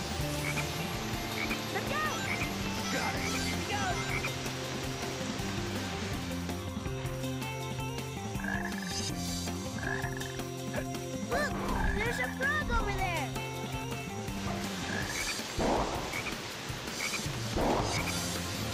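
Frogs croak in the Frog Forest stage of the Sonic Heroes video game, repeated croaks set against steady game music and character voices.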